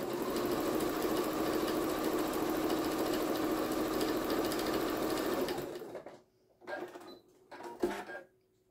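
A sewing machine stitching a quarter-inch seam with a 2.5 stitch length, whirring in a steady rapid rhythm, close and continuous before stopping and giving a few short bursts.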